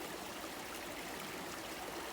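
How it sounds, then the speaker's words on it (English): Spring water flowing out of a natural spring at a wooded nature preserve in winter, a continuous soft trickling stream with a steady, even rush, faint and alone without voices. "Here's water coming out of the spring."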